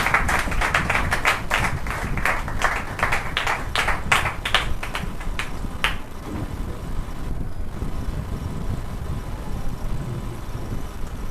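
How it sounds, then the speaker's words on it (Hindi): Congregation at a Sunday church worship service clapping in a burst of rhythmic applause for about six seconds, then fading into quiet room ambience. "आइए जोरदार तालियां परमेश्वर के दास के लिए।"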